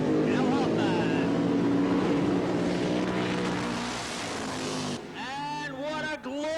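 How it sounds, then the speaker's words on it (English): A nitro funny car roars through a long drag-racing burnout at a 1988 Australian funny car event, a loud sustained engine howl that fades near the end. An announcer's voice then rises over the crowd. "And what a glorious burnout."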